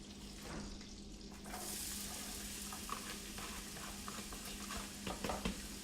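Finely chopped onions sizzle steadily in melted fat in a pan, a continuous close crackle with a few brief stirring clatters near the end.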